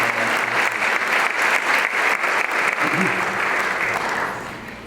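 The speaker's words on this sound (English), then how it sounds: "So if you would, with your applause, let's welcome Mr." Audience applause welcoming a presenter to the stage, a dense, steady clapping crowd that holds for about four seconds before starting to fade.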